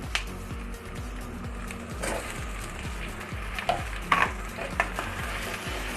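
Sliced capsicum sautéing in a pan for chilli parotta, with a steady sizzle and a spatula scraping and stirring in regular strokes, close and alone with no talk.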